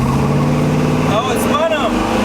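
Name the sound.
car with Edelbrock AVS2 carburetor accelerating hard, wheels spinning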